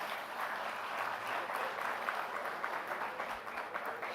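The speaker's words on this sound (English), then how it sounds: "May we welcome him with a warm round of applause." An audience at a national leadership conclave in India applauds to welcome a minister, a dense, steady wash of many hands clapping close by that holds without a break throughout.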